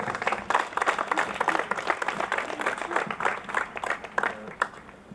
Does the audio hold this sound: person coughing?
no